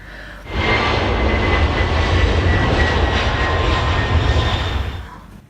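A voice imitates a Boeing 737 airliner, a loud sustained roaring jet-engine whoosh held for about five seconds before tapering off.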